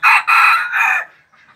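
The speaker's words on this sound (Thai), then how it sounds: "ฟังเสียงขันเพาะๆของเขาครับบรรยากาศยามเช้านะฮะ" A bantam rooster crows loudly and close by on a morning farmstead, two strong bursts running into a long drawn-out call, then a faint trailing tail.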